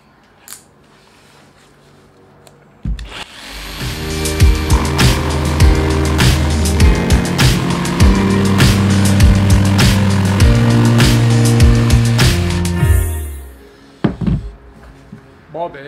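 A power tool spindle cuts straight through solid softwood, a loud continuous buzzing whine that starts abruptly, holds for about ten seconds with rattling harmonics, then stops and spins down.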